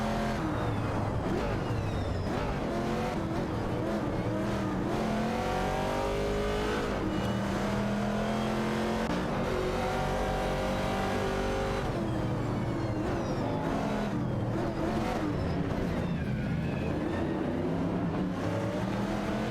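TransAm race cars lap Laguna Seca in a racing video game, several engines roaring and revving in overlapping rising and falling sweeps as cars accelerate and shift, loud and continuous throughout.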